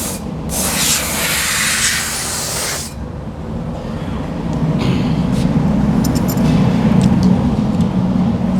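Steady hissing spray from a wand applying Mopar rust proofing inside a car door toward the rear, loud and continuous for a few seconds before fading into a lower rushing background.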